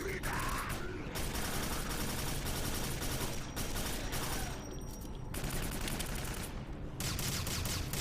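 Rapid machine-gun fire in the Quake 4 video game, dense loud bursts of automatic shots crackling almost continuously with brief pauses between volleys, amid in-game effects.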